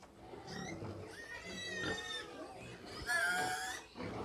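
Pigs on a farm in Cameroon, including pregnant sows and piglets, give a run of squealing, grunting oinks, several loud close calls overlapping in bursts across a few seconds.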